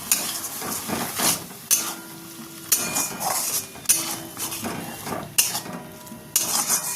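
Tomato puree going into spices frying in a pan for an egg and cauliflower curry, heard as a sizzle with repeated clinks and scrapes of a utensil against the pan.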